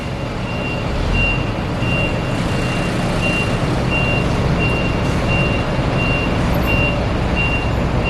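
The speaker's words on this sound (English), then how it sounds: "The buses have to back out into a open intersection." A city bus in Taiwan backs out of a layover stop into an open intersection, its reversing alarm beeping steadily at an even pace over a loud continuous engine rumble and traffic noise.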